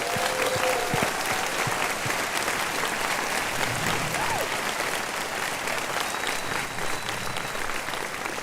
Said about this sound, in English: They deserve a round of applause